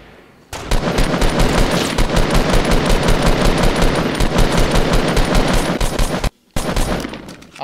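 Sustained rapid automatic gunfire from the Fortnite video game, loud and continuous for several seconds with a brief gap near the end before resuming.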